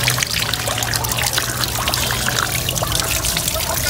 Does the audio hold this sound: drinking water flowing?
yes